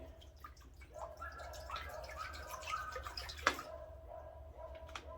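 Water pours into a big cast iron Lodge cooking pot for noodles, a steady splashing, dripping stream that runs for several seconds with a sharper splash near the end, close by.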